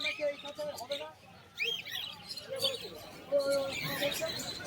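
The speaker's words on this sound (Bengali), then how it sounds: "এখানে জোড়া সিরাজ পায়রা রয়েছে সিরাজ পায়রা জোড়া ব্ল্যাক সিরাজ রয়েছে" Black Siraj fancy pigeons at the Birnagar market giving soft coos, scattered chirps and other bird calls nearby, faint and intermittent against a busy crowd background with people talking.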